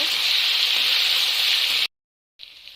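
Prawns frying in a pan give a steady, loud hissing sizzle that cuts off abruptly, then returns more faintly after a short silence.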